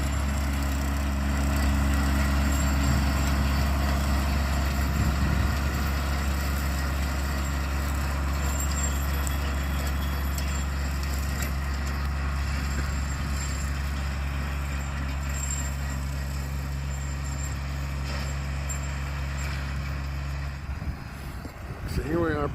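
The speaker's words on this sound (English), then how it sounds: "on the tractor, driving bush hog in the field" A tractor pulling a bush hog mower through a field hums with a steady low engine drone and constant mechanical rumble, running loud and unbroken until it dips near the end.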